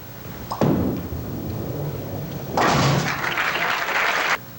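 At a 1982 professional bowling final, a ball rolls down the lane toward the 10 pin, then a pin crash erupts into loud crowd applause and cheering in the arena.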